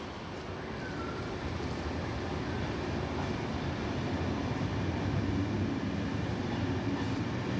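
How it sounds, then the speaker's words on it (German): A EuroNight sleeper and car-carrier train pulls out of platform 9 at Hamburg Altona toward Vienna, a steady low rumble of rolling rail cars that grows slightly louder as it departs, with no talk. "Autoreise, Zug fährt ab."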